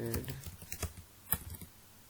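Keys clatter on a computer keyboard while Java code is typed, a quick irregular run of light clicks at low level, close by and quiet, with faint voice traces in between.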